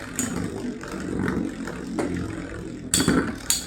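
Takara Tomy Metal Fight Beyblade tops, Galaxy Pegasis W105R²F among them, launched and battling in a stadium: a continuous whirring scrape of spinning tops punctuated by sharp metallic clashes and clatters, close and fairly loud.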